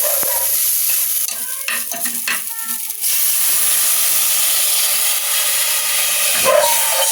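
A loud, steady hiss and bubbling rise from a pot of soup water boiling on the stove, interrupted briefly by stirring clinks and scrapes.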